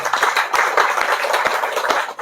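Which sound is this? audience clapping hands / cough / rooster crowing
audience clapping hands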